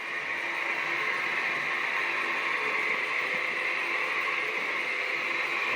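A soap extruder (boudineuse) in Africa runs with soap inside, giving a steady loud mechanical whir with a grinding, ratcheting texture that does not let up, with no talk.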